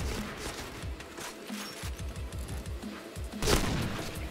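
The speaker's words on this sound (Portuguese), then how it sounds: "Taquei a bomba pra fugir" In the video game Point Blank, a thrown grenade goes off as a sharp, loud blast near the end, after a run of rhythmic, thudding automatic gunfire. No voices can be heard.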